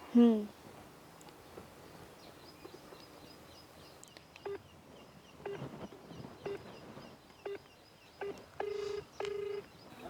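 A phone number is dialed on a telephone keypad, a run of short, clear tones picked out one by one after a pause, faint talk underneath at the start.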